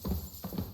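Horse hooves clip-clop in Kingdom Come Deliverance 2, three dull, evenly spaced thuds at close range within under a second, with no talk over them.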